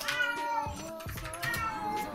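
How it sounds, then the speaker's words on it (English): A cat meows several times in quick succession, fairly close and clear, with a faint voice and game sounds in the background. "Going to murder this cat."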